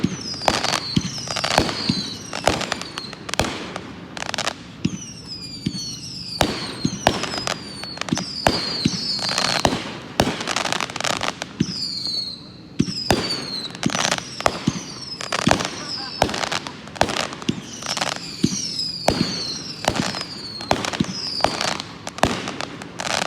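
A Patriot Arms 25-shot firework cake at a public fireworks show, firing a rapid, steady sequence of launch thumps and crackling bursts with whistling tails, loud and continuous, while a crowd and voices are heard underneath.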